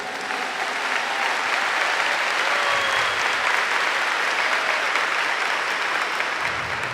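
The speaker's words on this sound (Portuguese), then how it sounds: "Give the Lord a big clap for this." A large audience claps steadily and densely at a religious gathering, a continuous roar of applause filling the whole stretch without pause.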